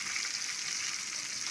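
Chicken shashlik sticks sizzle and fry on a griddle over low heat, a steady, close hiss of cooking with no talking.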